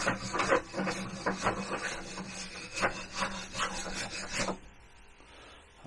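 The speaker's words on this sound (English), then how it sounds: "All I'm doing is give it a quick rub over with a wire brush." A wire brush rubs quickly over a rusty iron find pulled up while magnet fishing in London, a fast run of close, loud rasping strokes that stops abruptly near the end, leaving quiet.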